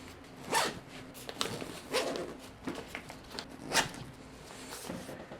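A zipper is drawn shut on an Alpaka Elements backpack in several quick rasping pulls, close and clear, with no talking.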